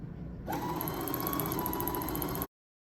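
Sewing machine running under foot-pedal control while winding thread onto a bobbin, starting abruptly and holding a steady, close whirring drone for about two seconds before cutting off to silence.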